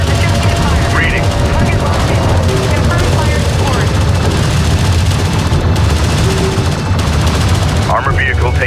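Rapid bursts of gunfire and booming explosions from a Homeworld: Deserts of Kharak battle with a salvager under fire, dense and loud throughout, with radio-style unit voices speaking over the combat.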